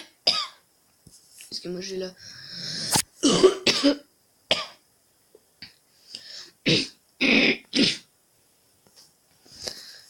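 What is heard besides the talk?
coughing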